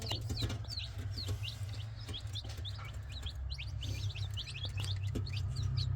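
Chickens on a farm, clucking and chirping repeatedly in quick, close calls over a steady low rumble of background noise.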